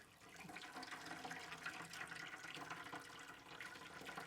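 Water splashes and pours steadily onto a wet, grainy mash of brewing grains, a continuous close rushing sound with no talking.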